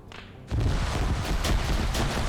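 Dense, continuous gunfire crackles and booms in a steady barrage, loud and close, starting abruptly after a brief quieter moment.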